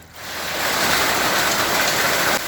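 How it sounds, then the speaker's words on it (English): Heavy rain pours down in a dense, steady hiss, loud and continuous with no voices. "is raining so hard outside."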